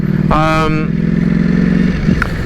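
A brand-new 2021 Ducati Panigale V4S being ridden on its first run-in outing, its engine droning loud and close with a brief rising rev near the start.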